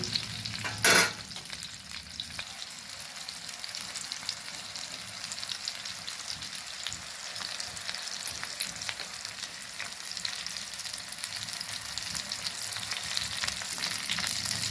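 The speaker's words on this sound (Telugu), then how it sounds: "ఇంకో వైపు వేగాలి కాసేపు మళ్ళీ వేగిద్దాం సిమ్లో పెట్టి" Fish pieces fry in hot oil on a low flame, giving an even, close sizzle and crackle that holds steady throughout, with a sharp clatter near the start and no voices.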